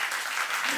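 A church congregation claps in a brief, dense burst of applause while a voice speaks over it.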